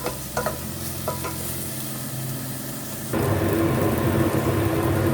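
Vermicelli sautéed with onion in a pot for ezogelin soup: a few light clinks of stirring, then the sizzle jumps louder halfway through and keeps up a dense, continuous frying hiss.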